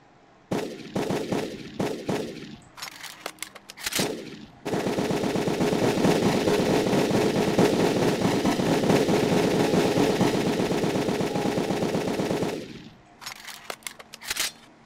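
A long, continuous burst of rapid machine gun fire in the video game MTA DayZ, loud and close, bracketed by scattered single shots before and after.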